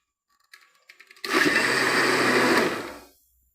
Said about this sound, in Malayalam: നമുക്ക് ഇതെല്ലാം കൂടെ മിക്സ് ആക്കിയിട്ട് ഒന്നും കൂടെ അടിച്ചെടുക്കാം